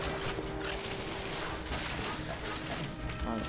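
Enemy gunfire rages in the Call of Duty: Finest Hour video game on the Eastern Front, a dense, unbroken wall of overlapping rifle and machine-gun shots with thuds and crashes mixed in.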